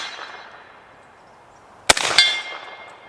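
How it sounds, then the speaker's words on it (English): A 12.5-inch 8.6 Blackout AR-10 rifle fires at a red 10-inch steel plate target, giving one sharp crack with a bright ringing clang and a second quick metallic ping, then a fading ring into quiet. "Let's shoot our red 10-inch plate."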